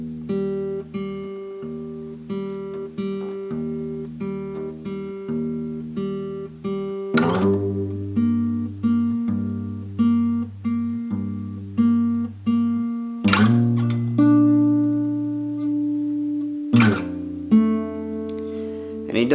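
Acoustic guitar bass notes slide up and down the neck, played slowly in a fingerpicked pattern for a song, with ringing plucked notes and a few clear shifts in the bass; no voice.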